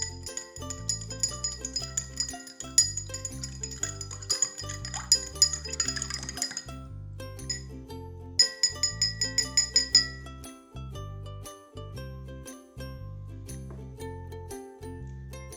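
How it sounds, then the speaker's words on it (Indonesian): A spoon stirs an egg mixture in a glass during a colloid chemistry experiment, giving quick, repeated clinks and taps of metal on glass over a steady rhythmic background. "Kemudian kita aduk hingga telur sempurna."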